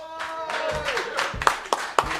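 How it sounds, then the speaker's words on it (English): A storytellers-night audience claps to welcome the host, a modest patter of hands that grows denser with a few sharp, close claps near the end, over a lingering tonal hum and some faint voices. "Please give a warm round of applause to your host,"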